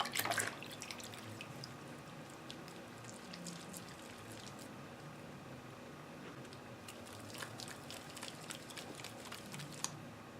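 Warm water poured over a homemade shower jelly gives faint, close wet drips and soft squishing sounds, quiet and intermittent, with a slightly busier spell near the start.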